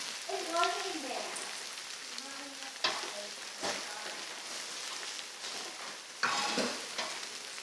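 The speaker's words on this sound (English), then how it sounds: "Now I'm going to put all this zucchini in." Zucchini sizzles and crackles steadily in a hot pan, with a few clattering stirs and a voice talking faintly over it.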